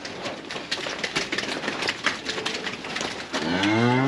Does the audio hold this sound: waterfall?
no